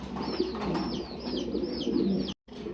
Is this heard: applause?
no